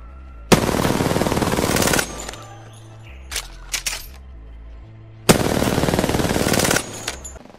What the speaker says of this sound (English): And now shoot right there.